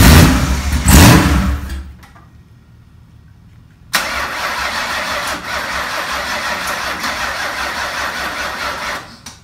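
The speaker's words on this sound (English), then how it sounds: "Battery's going dead. You can hear it getting slower." A turbocharged 4.6 2V engine cranks unevenly and loudly on a weakening battery, cuts out into near silence for about two seconds, then cranks again in a long, labored, dragging run.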